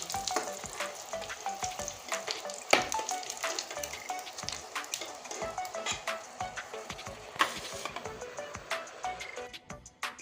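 Eggplant slices rubbed with salt and turmeric fry in oil, giving a steady close sizzle with dense crackling pops and a few sharper spits.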